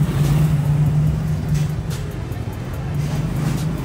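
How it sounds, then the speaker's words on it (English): Cars and motorbikes heading down a one-way street in Bangkok's Chinatown, a busy, fairly loud engine drone with vehicles rising and fading as they pass, under faint street chatter. "all the cars and bikes are coming towards this direction here"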